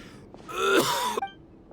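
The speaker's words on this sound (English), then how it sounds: "Why is he coughing so much?" A character in a Genshin Impact cutscene coughs, producing one harsh, raspy, strained burst close up, with a wheezy, moaning edge, followed by brief quiet.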